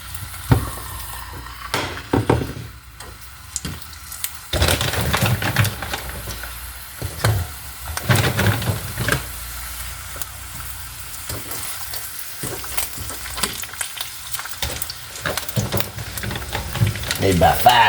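Breakfast sausages frying in a pan, a continuous close sizzle broken by occasional stirring and scraping, with a person talking over it.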